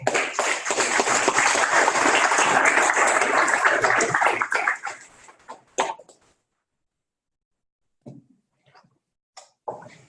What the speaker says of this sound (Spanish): Con nosotros damos la bienvenida, nuestro reconocimiento y aplausos al doctor José Ramón Favela.